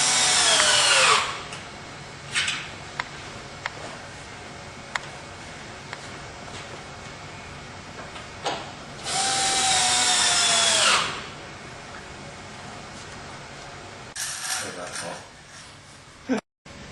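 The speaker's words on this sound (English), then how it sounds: "Getting all the screws in, and you'll have a nice, secure railing system." Power drill driving screws into an aluminum railing during installation, with loud bursts of high-pitched whirring around the start, middle and end, broken by quieter handling and clicks.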